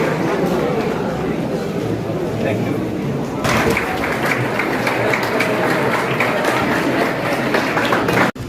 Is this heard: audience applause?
yes